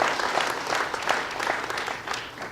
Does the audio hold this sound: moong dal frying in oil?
no